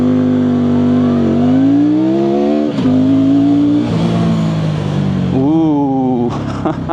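A KOVE 625V Lancer cruiser motorcycle accelerates hard through several gears, its engine note climbing, dropping at each shift and climbing again, loud and close from the rider's position.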